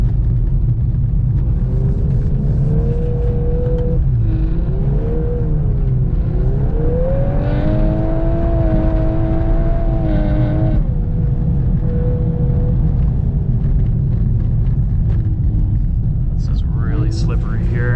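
A 2022 Volkswagen Golf R with DSG and all-wheel drive driving on snow, its engine droning and rising and falling in pitch under steady road rumble, heard from inside the car with a voice talking over it.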